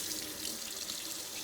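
Hot water runs steadily from a kitchen tap into a sink, a continuous close, broad hiss and splash with no pauses or talk.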